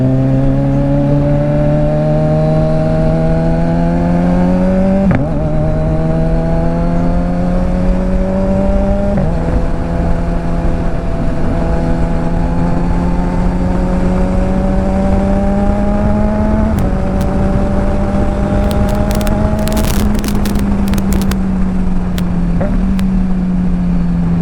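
A loud engine revs repeatedly, its pitch climbing steadily then dropping sharply with each blip, continuous and close throughout.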